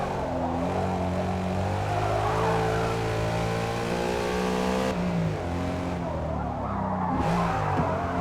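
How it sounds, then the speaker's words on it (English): A racing car engine in the video game Forza Motorsport (2023) roars at high revs, pitch climbing and dropping through gear changes, with a brief tire squeal; loud and close, no talking. "They really do a great job with how their cars sound."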